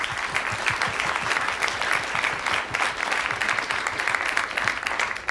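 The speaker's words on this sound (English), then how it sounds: "Let's give him a round of applause." An audience at an industry and partner day event gives a sustained round of applause, steady, dense clapping from a large crowd that continues evenly throughout without talk.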